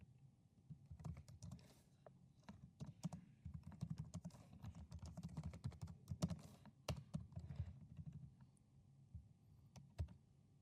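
Code is being typed on a computer keyboard in a steady stream of close, distinct key clicks with uneven rhythm and occasional louder strikes, and no voices.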